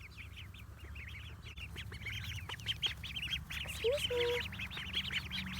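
Ducklings quack and peep in a busy cluster around someone's feet outdoors near a garden, a constant chattering close by, with a brief spoken word partway through.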